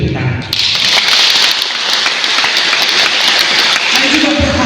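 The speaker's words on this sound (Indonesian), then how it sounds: "Kita beri tepuk tangan." A church congregation claps in a sustained round of applause. It starts abruptly after a brief voice and stays dense and loud until a voice returns near the end.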